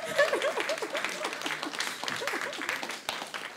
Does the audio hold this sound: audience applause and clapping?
yes